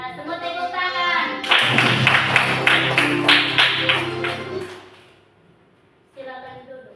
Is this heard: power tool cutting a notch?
no